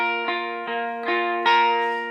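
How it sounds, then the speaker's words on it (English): Electric guitar picked hard in a lead line with a crunchy, high-gain overdriven tone and no delay or reverb, four strong sustained notes sounding close and loud with no voice. "if I really want to, I can dig into it and get quite a bit of gain"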